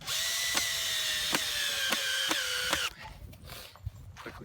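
Power drill driving screws into a wooden H-brace: a loud, close, sustained whine broken by several sharp ticks, then stopping abruptly and leaving quieter scuffs and handling noise.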